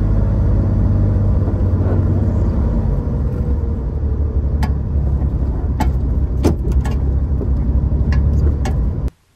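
A Chevrolet Corvair on a test drive, its engine giving a steady low rumble with road noise from inside the car, a few sharp clicks near the end, then cutting out abruptly.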